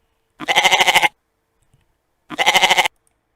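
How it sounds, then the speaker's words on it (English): A goat bleats twice, each call loud, close and wavering for about half a second, with a short silence between them and no other sound. "it's not a lamb. It's a goat."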